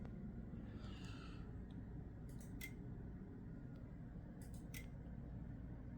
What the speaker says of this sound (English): You can hear my IDS click when I do that.